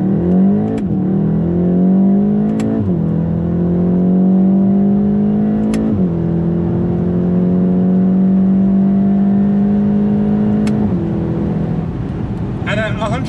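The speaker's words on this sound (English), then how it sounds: "It's got a nice tone to it, that 2 litre engine, 2 litre turbocharged engine." A VW Golf TCR's 2-litre turbocharged four-cylinder drones steadily from inside the cabin, its pitch holding level through long pulls with brief dips at each gear change, loud and continuous throughout.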